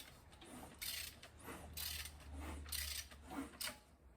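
A ratchet with a 24 mm socket turns the crank of a junkyard aluminum L33 5.3 engine, giving four rhythmic bursts of clicking, faint and close, with a low rumble under them.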